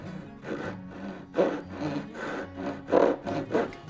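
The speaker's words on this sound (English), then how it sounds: "you position the saw blade right on that shoulder and start making the cut" A hand saw cuts a tenon shoulder in wood with rhythmic rasping back-and-forth strokes, about seven close, clear strokes with louder pushes, and no talking.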